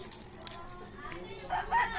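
A backyard gamecock broodcock of a white hatch line gives a short, fairly faint crow near the end, with some faint background noise beneath it.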